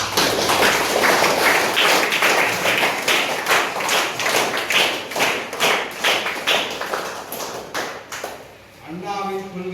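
An audience at a Tamil political gathering claps in early birthday greeting for Thirumavalavan, with dense, steady, loud applause for about eight seconds before it breaks off and a voice begins.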